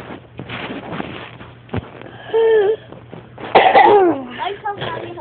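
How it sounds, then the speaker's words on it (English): A child coughs in bed, with several harsh, close coughs and throat clearing scattered between stretches of talk. "The coughing is coming."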